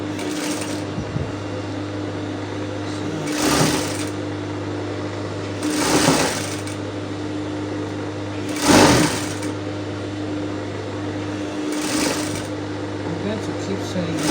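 A sewing machine stitches folded fabric edges for an off-shoulder ruffle top, running as a steady motor whir with louder surges roughly every two to three seconds, close and clear.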